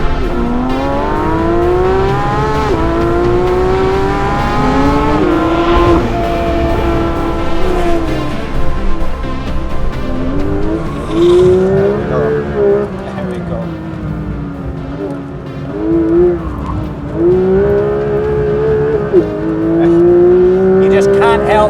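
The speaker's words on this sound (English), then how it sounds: "Wow, big drift, smoke in the rear tyres." A 500-horsepower Porsche 911 GT3 (992.2) on Michelin Pilot Sport Cup 2 tyres drifts around a dry track, its engine rising and falling through repeated revs and gear changes, with a person talking over it throughout.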